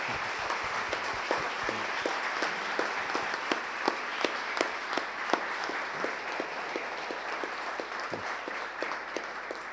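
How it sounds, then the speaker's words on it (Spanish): An audience at a book presentation gives a strong round of applause for all writers, a sustained even wash of many hands clapping, with a few individual claps standing out, and no talking over it. "podemos dar un fuerte aplauso a todos los escritores"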